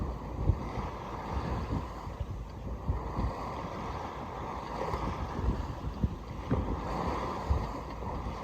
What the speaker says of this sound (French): seul à écouter le bateau, l'eau le long de la coque